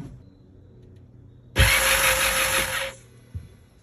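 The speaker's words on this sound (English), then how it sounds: "I'm just going to turn the key for a second" A Yamaha jet boat engine cranks over on the key with its spark plugs removed, a loud, steady starter whir lasting about a second and a half, then cutting off, followed by a brief thump.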